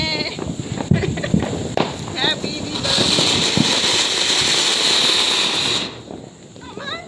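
Diwali firecrackers go off in a string of sharp bursts, followed by a sustained hissing crackle, while people nearby shout and laugh.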